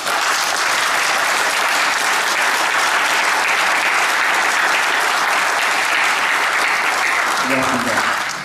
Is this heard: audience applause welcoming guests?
yes